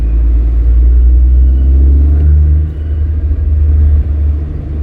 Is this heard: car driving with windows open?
yes